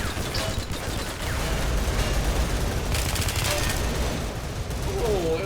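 M4A1 rifle fire in the shooter game Line of Sight, rapid bursts of gunshots with a sharp crack and echo, loud and close, overlapping other gunfire and game effects.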